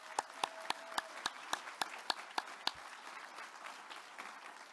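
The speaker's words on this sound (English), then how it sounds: "Everyone, a big round of applause to all our recipients" At a cultural diversity awards ceremony, a fairly quiet run of evenly spaced claps sounds close by, then thins into scattered, softer clapping.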